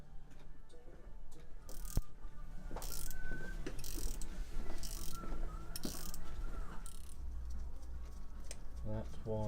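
Tools work on a Yamaha Townmate motorcycle carburettor as it is dismantled, with ratcheting clicks, scraping and sharp metallic clinks of nuts, bolts and screws, close by, and a voice heard at times.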